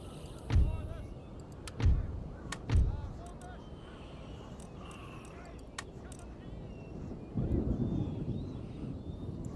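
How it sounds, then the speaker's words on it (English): Low thunder rumbles through a battle in the strategy game Total War: Empire, with three heavy booms close together early on and a longer, rolling rumble near the end over a dull background hum. "Sounds like we've got a thunderstorm rumbling in this battle."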